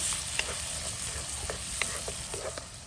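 Onions fry in butter in a pan for a dhaba-style egg butter masala, a steady soft sizzle with occasional light stirring taps, close and without talk.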